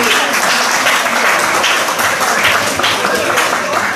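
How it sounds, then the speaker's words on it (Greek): Steady, dense applause from a crowd at a Cretan community pita-cutting celebration, loud and continuous throughout with no gaps. "Ένα μεγάλο χειροκρότημα για τον Γιώργο τον Μαλαδράκη"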